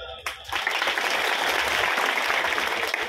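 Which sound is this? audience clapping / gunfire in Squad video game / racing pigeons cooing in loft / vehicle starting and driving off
audience clapping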